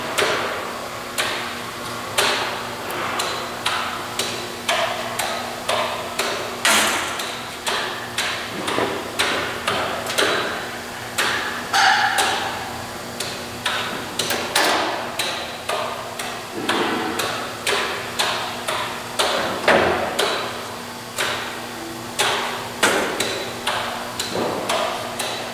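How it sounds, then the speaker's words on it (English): A Belovac A Class thermoforming machine runs an automated preblow cycle, producing a steady series of sharp mechanical knocks and clacks at a regular pace, with hissing air and motor noise between them, loud and close throughout. "We'll begin by loading the material and starting the automated process."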